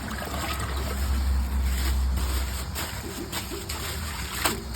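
A Niagara Stealth toilet flushes a grocery bag and a washcloth, giving a loud, steady rush of swirling water close by for several seconds, with a few gurgles near the end.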